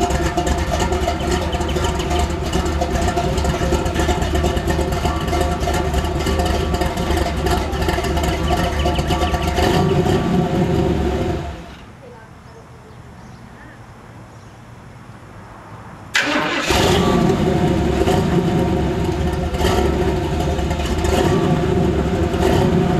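A Studebaker Champion engine runs steadily at a loud idle with a mid-pitched drone. It drops away for several seconds, then starts again abruptly at full level as the air ride suspension begins to lift.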